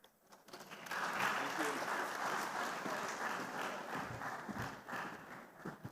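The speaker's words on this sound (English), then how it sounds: "Please let's give them another warm round of applause" An audience applauds in a hall at a tech conference in Africa, a dense sustained clapping that swells after a quiet start and runs steadily, with voices and some movement mixed in.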